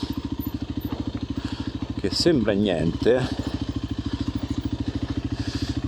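Motorcycle engine idling with a steady, rapid low pulse on a rough Atlas mountain track, close and continuous throughout, while someone talks over it in the middle section.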